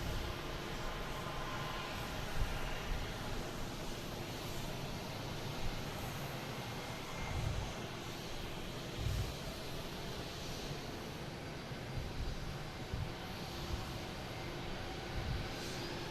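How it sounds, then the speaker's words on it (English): A Cape Air Tecnam 2012 twin-prop commuter plane arrives at Boston Logan, its broad steady engine drone heard from a distance over a constant wash of outdoor noise. "it's a Tecnam 2012 coming in from Lebanon"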